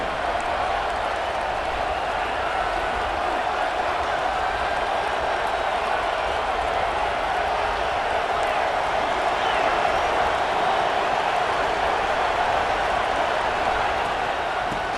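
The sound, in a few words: loud football stadium crowd noise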